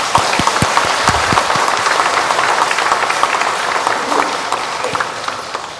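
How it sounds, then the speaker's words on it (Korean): Congregation in a Catholic church applauds during a feast-day Mass, a loud wash of crowd clapping with a few close, sharp individual claps early on, gradually thinning toward the end. "우리 축하의 박수 부탁드립니다"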